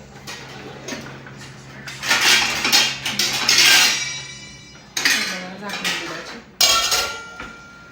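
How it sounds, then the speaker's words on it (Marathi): A lid goes onto a pot of freshly boiled milk in a home kitchen, making several metallic clanks and scraping clinks in bursts of varying loudness, close by. "आता दूध झाकून ठेवते"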